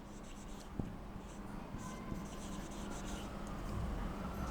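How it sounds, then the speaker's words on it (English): Pen writing out a physics solution on paper, a faint, quiet scratching and rubbing with a couple of small taps, steady throughout and heard alone. "So let us write it down."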